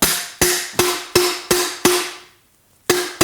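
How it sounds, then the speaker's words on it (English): Seven evenly spaced, dull thuds of a rubber mallet seating a seal into a DT Swiss bicycle fork lower leg, each ringing briefly, with a short pause before the final two blows. "Take your rubber hammer,"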